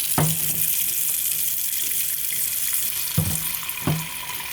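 Water from a kitchen tap runs steadily into a pot being filled for melting chocolate, a continuous hiss with a few sharp clunks of metal.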